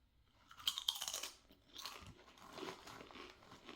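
Close, crisp crunching and chewing of Japanese snack chips laced with chili oil: a loud cluster of bites early on, then softer, ongoing mastication crackles, with no speech.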